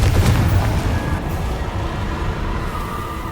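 A Confringo blasting spell explosion in the video game Hogwarts Legacy hits with a heavy boom at the start, then fades into a low rumbling tail over the next few seconds.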